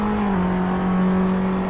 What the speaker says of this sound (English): it doesn't really like to be revved out like this in a road car